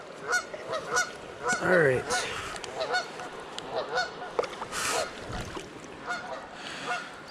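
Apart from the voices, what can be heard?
geese honking by a creek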